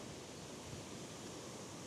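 Waterfall at Clamp Hole on the River Barrow on a very wet day, a steady broadband rush of falling water, constant and fairly faint with no other sounds.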